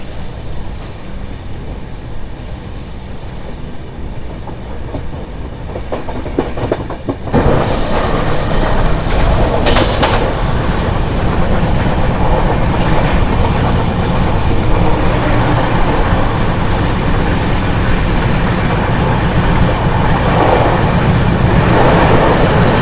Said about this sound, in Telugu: మన ట్రైన్ వచ్చేసి ఒంగోలు నుంచి అయితే బయలుదేరిపోయింది.